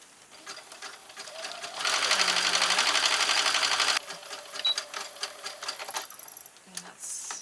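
A sewing machine stitches with elastic thread for gathering fabric, a rapid close mechanical chatter that surges loud for about two seconds, then breaks into shorter stitching bursts and pauses.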